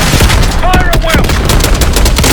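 Rapid automatic gunfire and single shots crack continuously in a Black Ops 6 campaign battle at a palace gate, loud and close, with shouted voices and whizzing sounds mixed in.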